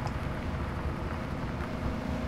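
The V16 engine of a Big Bud tractor in Farming Simulator 2017 drones as a steady, dense, low rumble without pause, with no voices over it.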